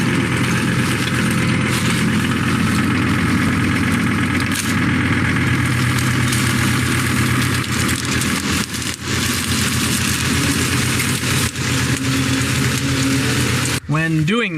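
A tractor pulls a Truax drill through corn residue on a prairie seeding field, its engine drone steady and close throughout, with a mechanical whine rising near the end.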